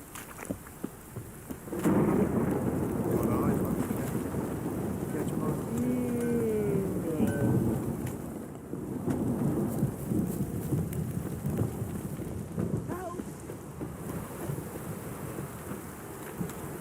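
Heavy rain pours steadily with low rolling thunder in The Witcher 3, a dense downpour hiss persisting throughout while a voice murmurs beneath the storm.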